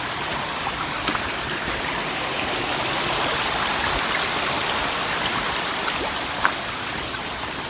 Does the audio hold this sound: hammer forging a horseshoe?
no